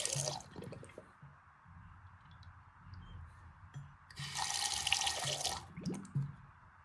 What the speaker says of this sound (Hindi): अभी पानी जा रहा है, लेकिन इसकी पूरी ब्लॉकेज नहीं खुली है।